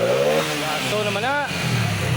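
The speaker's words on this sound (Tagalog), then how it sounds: "Paandarin muna natin itong kanyang motor." A Honda XRM 125 FI motorcycle with fuel-injection error codes and sensor faults starts with a single click and settles into a rising, revving idle, close to the mic, with a voice speaking over it.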